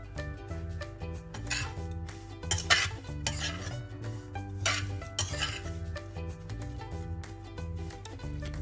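A spoon scrapes and clinks as homemade bread crumbs are stirred in a dry kadai over low heat, giving repeated metallic rubbing strokes under steady background music, with no talk.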